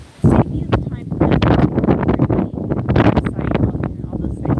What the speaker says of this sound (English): We are here out at the Convention Center on another windy day. I feel like every time we record at the Convention Center, it's super windy